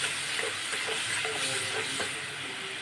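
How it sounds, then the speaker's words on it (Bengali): A spice paste with ginger, salt and a little water fries in a pan and is stirred, giving a steady close hiss and sizzle with faint scraping and no speech. "অল্প জল দিয়ে মশলাটাকে আবার ভালো করে কষিয়ে নিচ্ছি"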